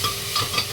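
Tomatoes hit a hot pan for egg biryani and sizzle softly, with a few brief stirring scrapes over a quiet frying hiss.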